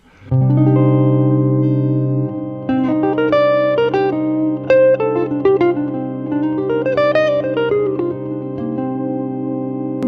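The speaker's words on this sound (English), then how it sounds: "So we can use any arpeggio that we can find inside of the Dorian mode." Sustained tones hold underneath while a melodic line of rising and falling arpeggiated notes in the Dorian mode plays clearly on top, steady and unhurried.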